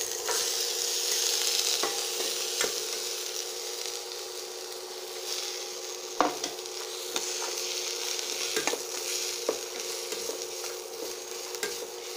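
Tomatoes, peas and carrots sizzle as they fry in a pan with softened onions, with a spoon scraping and stirring at intervals over steady frying hiss, close and unaccompanied by talk.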